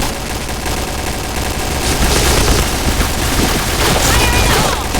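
In the video game Point Blank, rapid gunfire and a grenade blast make a loud, dense barrage of shots and booms that fills the whole stretch without a break.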